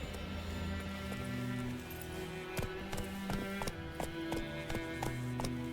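Horse hooves gallop in The Witcher 3 video game, a quiet, rapid clip-clop rhythm running throughout alongside soft game ambience and low tonal music.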